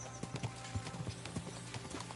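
Horse hooves clip-clop at an unhurried walk in the medieval game Kingdom Come Deliverance 2. The steps are soft, evenly spaced and fairly close, with a faint ambient bed beneath and no talk.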